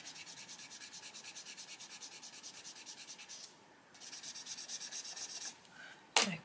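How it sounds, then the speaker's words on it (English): A Tombow Mono eraser rubbed quickly back and forth on paper while colouring a skull drawing, a close, steady rhythmic scrubbing with a brief pause before it resumes and ends in a small knock. "Tombow Mono Eraser. Rub, rub, rub."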